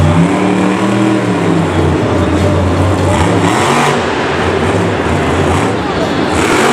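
Grave Digger monster truck at Monster Jam Singapore 2017 revs hard during a slap wheelie, loud throaty engine bursts rising and falling in pitch, with an announcer talking over the roar.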